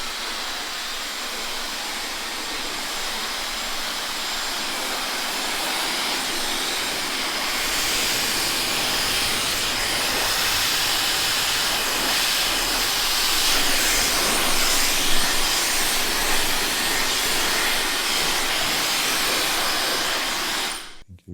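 Hair dryer blow-drying hair during a haircut styling, a loud steady airy roar and hiss that swells slightly midway, runs continuously for about twenty seconds, then cuts off abruptly at the end.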